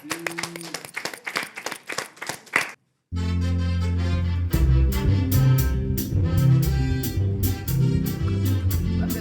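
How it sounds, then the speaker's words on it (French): Applause from an audience at a song contest, a burst of clapping that stops abruptly and then gives way to loud music with a steady rhythmic beat. "C'est parti avec M. Dubrayas qu'on applaudit bien fort"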